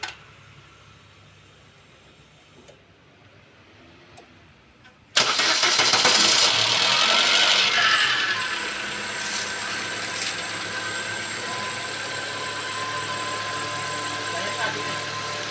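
A car engine cranks and catches with a loud burst, then settles into a steady idle that continues close by.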